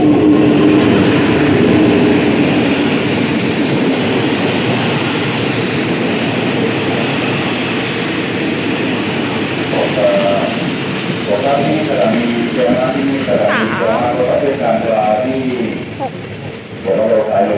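A train pulls into a station in Thailand with a loud, steady rumble of wheels and rolling stock, a faint squeal running under it and a few voices talking nearby toward the end.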